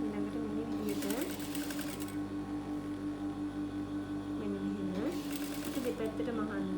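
A sewing machine stitches a saree blouse in two bursts of rapid mechanical chatter, close and clear, with someone talking over and between the runs.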